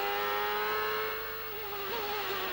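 A 1996 IndyCar engine at Mid-Ohio screams in a sustained high-pitched whine from an onboard view as the car battles another, with the pitch rising and falling as it shifts and no talk.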